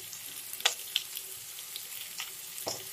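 Fish intestine and brinjal with salt and turmeric sizzle in a pan while being stirred, a steady fry broken by a few sharp spatula scrapes and clinks, close and moderately loud.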